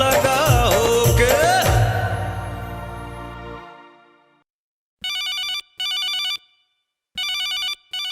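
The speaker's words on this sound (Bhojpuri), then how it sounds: "और इसी के साथ हमारे एक और कॉलर का फोन आया है।" A telephone rings for an incoming caller on a Bhojpuri call-in music programme, a loud electronic ring repeating in three evenly spaced bursts after a music track fades to silence.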